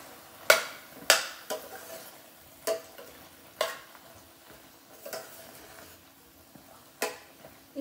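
Okra (ladies' fingers) frying in a pan, with a soft steady sizzle under sharp, spaced clacks of a spatula scraping and stirring against the pan, about eight distinct strikes, close and fairly quiet.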